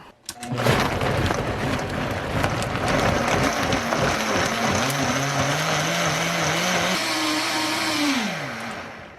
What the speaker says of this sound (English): what I like to do first is blend this up before I add the frozen fruit so it gets all nice and smooth and creamy